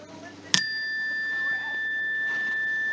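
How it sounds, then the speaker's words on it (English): A meditation chime is struck once, a sharp bright ding followed by a long ringing tone that slowly fades, with faint room noise under it. "meditation chime"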